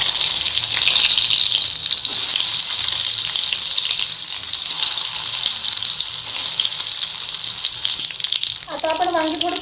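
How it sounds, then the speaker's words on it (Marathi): Stuffed eggplants dropped into hot oil for a Maharashtrian masala bharli vangi, giving a loud, steady hiss of frying that fills the whole clip and thins slightly near the end, with a faint voice entering at the close. "आता ही वांगी आपल्याला गरम तेलात सोडायची आहे।"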